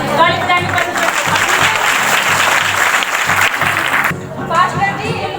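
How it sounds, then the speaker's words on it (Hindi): A congregation at a live healing church service claps loudly and continuously for about four seconds, then the clapping thins out. Crowd voices murmur under the dense applause. "ताली बजाएंगे परमेश्वर की।"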